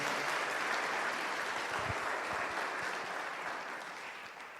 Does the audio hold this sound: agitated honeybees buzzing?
no